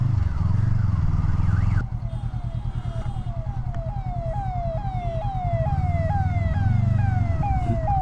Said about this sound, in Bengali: অ্যাম্বুলেন্সও গেছে নাকি